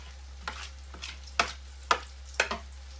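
Crab cakes cook slowly in a pan with a soft, low background hum, broken by a few faint, brief scraping and stirring sounds at irregular intervals. No one talks.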